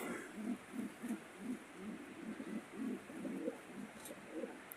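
Paper pigeons coo in a steady, repeating series of soft, low, throaty calls, fairly close, with faint background hiss.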